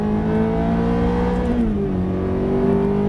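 A Ferrari F430 engine pulls steadily and loudly on a coned driving course, its droning note dipping briefly as it shifts up, then holding a smooth, sustained roar.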